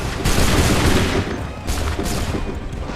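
Volley of musket gunfire in the video game Assassin's Creed III, dense crackling shots layered into a loud, continuous fusillade with sharp bursts throughout.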